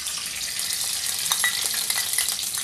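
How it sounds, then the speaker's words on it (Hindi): Ghee hitting a hot pan for semolina halwa gives a steady, close, bright sizzle that hisses continuously with a few small pops and crackles, and no one speaks. "अब देखिए फ्रेंड्स, हम इसमें ढेर सारा घी डाल देंगे।"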